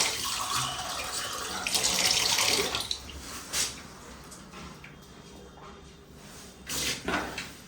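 Very cold water runs and splashes from a tap, with a louder gushing stretch early on, then quieter trickles and a few clinks and knocks nearby.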